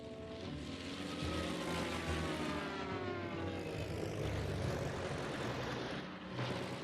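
A WWI-era propeller aircraft drones steadily in flight, a continuous engine roar with shifting tonal harmonics that stays loud and sustained throughout, with no voices.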